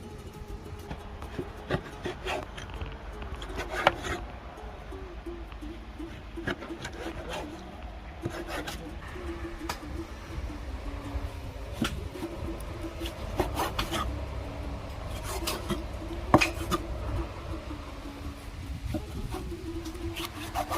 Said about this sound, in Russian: сейчас начинаем резать печень